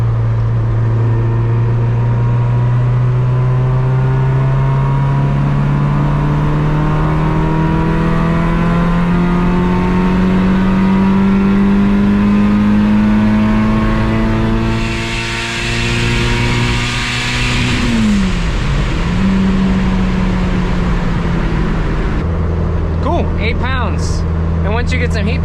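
A turbocharged Honda EF hatchback with a D16 engine pulls hard in fourth gear, its loud, close engine note climbing steadily before a brief dip and recovery near the end.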